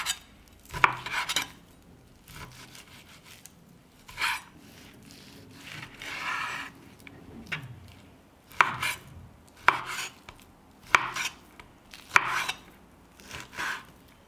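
A knife chops through 1.3 kg of fatty beef neck on a board, with irregular sharp thuds and scraping in bursts, some louder strikes spaced apart, close up with no talking.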